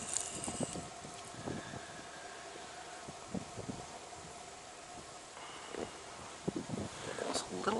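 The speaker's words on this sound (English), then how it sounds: "There's a little bit of north wind here too" A light north wind blows by a winter trout river in Wisconsin, a steady broadband rush with gusty buffeting against the microphone and occasional rustling, under a person's talk.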